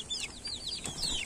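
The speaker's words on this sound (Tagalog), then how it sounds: "So madami na tayong manok dito." Several newly hatched chicks peep faintly in short, falling chirps, a few overlapping calls packed into about a second.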